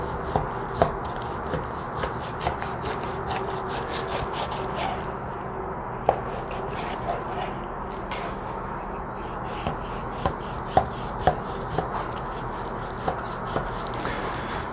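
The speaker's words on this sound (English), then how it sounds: "I'm going to make slices that are easy to go into the throat of my grinder." A knife working through partially frozen meat, cutting slices for a grinder: sporadic sharp clicks and taps over a low steady background hum, spaced irregularly across the stretch.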